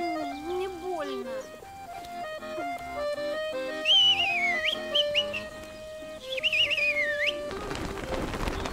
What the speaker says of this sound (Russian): зачем ты свистел?